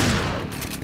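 Gunfire in Resident Evil 5 on the Nightmare mod cracks out as a short, loud burst of game gunshots, with no voices.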